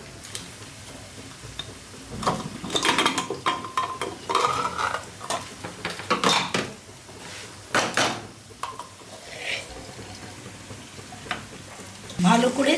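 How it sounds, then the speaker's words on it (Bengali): A spoon stirs lentils into fried Gobindobhog rice in a pot for khichuri, giving repeated scraping and clinking strokes in irregular bursts over a low kitchen background. "ভালো করে চালের সাথে ডালটা মিশিয়ে দিলাম।"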